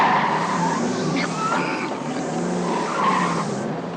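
A car squeals its tyres while swinging out to overtake another vehicle, a sustained skidding screech with rising and falling pitch over a steady engine roar, loud and close throughout.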